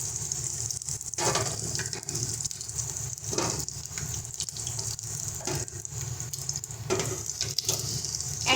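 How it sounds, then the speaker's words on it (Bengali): Paneer cubes frying in oil in a pan, giving a steady, even sizzle heard close up with no talking. "একই রকম সেম প্রসেসে আমরা বাকি যে পনিরগুলো আছে সব কটাকে আমরা ভেজে নেব।"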